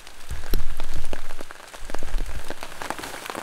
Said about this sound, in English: The rain started at 12 and has been consistent the whole time